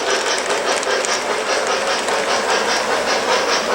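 An O gauge model train runs on a FasTrack layout controlled by MTH DCS. It makes a close, continuous rumbling clatter with a steady hiss.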